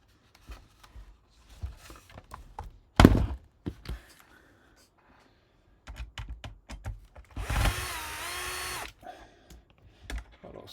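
A power screwdriver drives screws into an Akai Force music production unit during a repair, with scattered handling knocks and clicks before one sustained whirring burst of the driver near the end.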